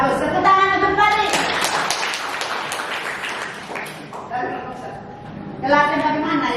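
Students in an Indonesian classroom clap their hands together for a classmate, a brief burst of nearby clapping between a teacher's spoken prompts, with talk before and after the clapping.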